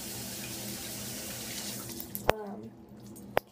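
Water runs from a faucet into a kitchen sink with a steady rushing hiss while glue slime is kneaded, then the flow cuts off, leaving near quiet broken by two sharp clicks.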